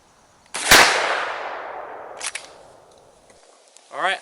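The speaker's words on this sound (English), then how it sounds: "the next choke in here is a .695, so let's take a shot at 15 yards to see what type of spread pattern we get" A single loud shotgun blast fired with a .695 choke at 15 yards, sharp and close, its echo fading over about two seconds, followed by a fainter click and a brief voice at the end.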